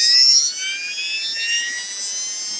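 A Bosch 18V lithium-ion hammer drill motor running on a bench power supply gives a steady high-pitched electric whine, loud and close, holding constant throughout.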